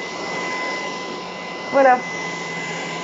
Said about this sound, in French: je continue à faire l'aspirateur tout en vous parlant